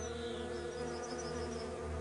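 Bees hum steadily and close by in the wild, a continuous droning buzz with no pauses and no voices over it.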